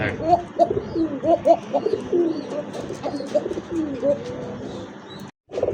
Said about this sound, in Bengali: দেখছেন প্রত্যেকটা কবুতরই ভাই যে ডাক, মাশাআল্লাহ সব ডাকে সবই ডাকে